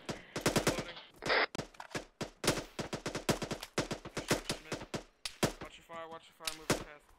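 Rapid gunfire in the Arma 3 video game during a USMC co-op hotel battle, dense bursts of sharp shots in quick succession, fairly quiet overall, with voices speaking near the end.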